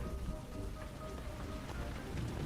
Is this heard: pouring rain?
yes